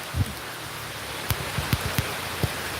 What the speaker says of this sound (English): That's proper rain, people.